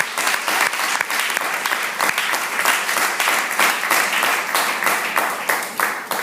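Strong, sustained applause from a church congregation, many hands clapping densely and evenly for several seconds with no voices above it.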